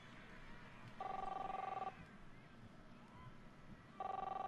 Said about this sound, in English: Ah, the phone's ringing.